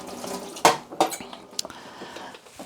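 A part from a Bosch 2-in-1 cordless vacuum cleaner is rinsed under running water, with splashing, a few hard knocks of plastic against the sink and dripping.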